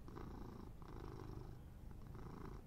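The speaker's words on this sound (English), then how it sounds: "He's purring." A cat purrs softly and steadily up close, with a low rumbling rhythm of inhale and exhale cycles, faint and alone without talking.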